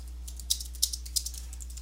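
Quick taps on a computer keyboard while editing email marketing software, a close, uneven run of light clicks with a few louder keystrokes over a low steady hum.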